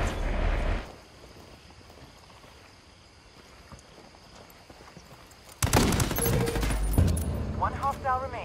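Video game gunfire in a combat shooter: a loud burst of shots at the start, then a quiet stretch, then a dense, loud volley of rapid fire with chirping effects near the end.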